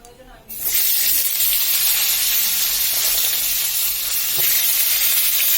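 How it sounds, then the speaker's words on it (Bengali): Cauliflower pieces drop into hot oil in a wok, and after a brief quiet moment a loud, steady hissing sizzle bursts up and continues evenly at close range. "এবার আমি কড়াইয়ের তেলে ফুলকপিগুলো ভেজে নেব।"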